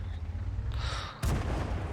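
A tank cannon fires in a tank video game, the FV4202: one sharp, loud boom that cuts through the low engine rumble and rings out afterward.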